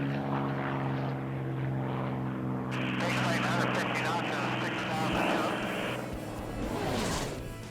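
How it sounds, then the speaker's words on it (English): A P-51 Mustang racer named Man of War flies low past in an Unlimited class heat at the 2022 STIHL National Championship Air Races, a steady droning propeller and engine hum beneath a talking commentator. "coming in low for your left, Ken Gotchel from Ventura, California, the P-51 called Man of War"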